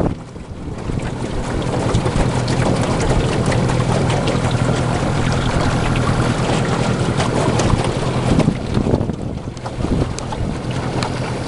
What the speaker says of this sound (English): And that wind is perfect.